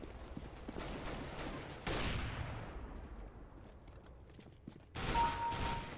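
Burst-fire gunshots in a first-person shooter video game, dense crackling volleys running almost continuously with a sharper burst near the end, and no talk over them.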